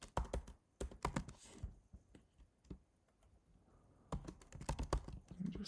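Code is typed on a computer keyboard in quick bursts of crisp, close key clicks, separated by a quieter pause before the rapid tapping resumes.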